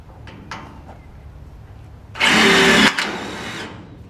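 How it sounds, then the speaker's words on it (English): A power drill drives screws through the top of a wooden fence post extension, giving a short, loud burst of motor whine followed by a second, weaker whir, after a few faint knocks. "2 screws through the top to stop it from rattling"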